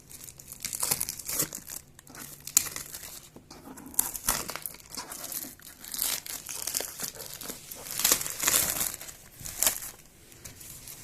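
Packaging from an RTX 2070 graphics card box is opened, with close crinkling and crumpling of plastic wrap and short tearing sounds that come in uneven bursts throughout.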